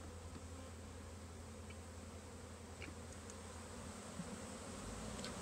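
Honey bees from a package swarm steadily buzzing as they are installed into a new hive outdoors, a dense continuous drone with no talk over it.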